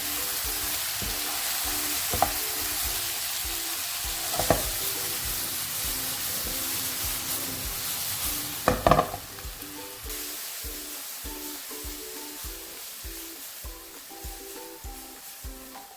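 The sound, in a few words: stirring steak vegetables with herbs in sizzling pan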